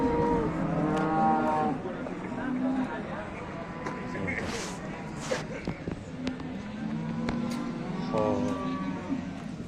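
Cows at a livestock auction or sale, heard as a few low moos under a crowd of people talking close by and steadily throughout.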